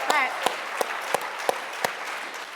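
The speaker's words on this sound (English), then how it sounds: "Please clap for Kofi." Six sharp, evenly spaced claps ring out in a row, loud and close, followed by a faint room hum.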